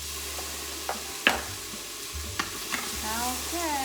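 Garlic stirred and sizzling in an Instant Pot on its sauté setting, a low steady frying hiss with a few sharp scrapes and clicks of a utensil, close and moderately quiet.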